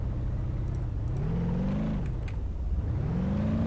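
A Moskvich car in the BeamNG driving game, its engine droning steadily with pitch rising and falling as it accelerates, revs and swings around, loud and continuous with no talk.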